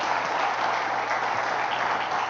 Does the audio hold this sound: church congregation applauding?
yes